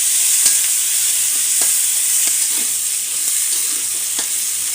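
Mashed ingredients frying together in a pan for a bhorta, giving a steady, close sizzle with occasional stirring scrapes throughout, no voices.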